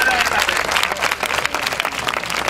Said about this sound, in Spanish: Muy buena idea, enhorabuena, un aplauso para María.